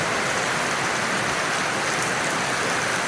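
Steady rain falls outdoors, a dense, even hiss of drops on surfaces that runs unbroken from start to finish with no voices over it.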